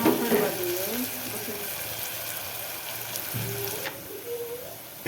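Green peanut curry sizzling steadily in hot oil as it is stirred in a pan in a village kitchen, a continuous frying hiss with occasional scraping, and a voice talking briefly.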